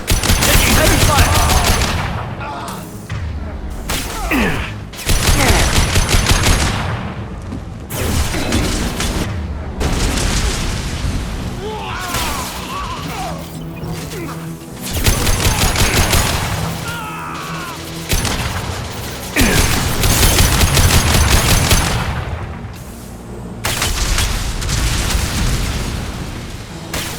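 Mass Effect 2 battle gunfire: sustained bursts of rapid automatic weapon fire and heavy blasts, loud and close, in waves with short lulls between volleys, occasional explosive booms and brief voices mixed under the shooting.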